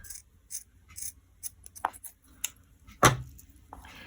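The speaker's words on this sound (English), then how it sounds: "A pair of sharp scissors is always good." Sharp scissors trim the cord ends of a surfer bracelet in a few quick separate snips, close and quiet, with small handling rustles between the cuts.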